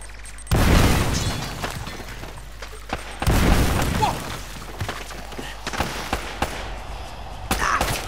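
Grenades explode in the Uncharted: Drake's Fortune Remastered video game, two heavy booms a few seconds apart with lighter thuds and pops between, under faint game ambience and occasional talk.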